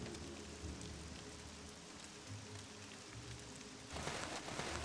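Rain falls steadily in Morrowind, a soft continuous patter on surfaces that stays quiet and constant and swells slightly toward the end.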